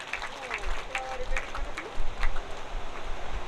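Crowd applause at a Goga Maharaj gathering honouring a donor family, a steady rustling clatter of many hands with a voice talking faintly underneath.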